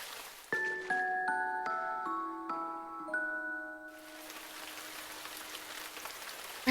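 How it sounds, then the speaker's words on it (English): A few soft chime notes ring out and fade into a steady, quiet hiss of falling rain in the video game Norn9. "Rain."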